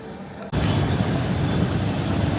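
A loud, steady roar of passenger airplane engines at the start of a flight to Barbados starts abruptly and holds, filling the space with a dense rumble close by.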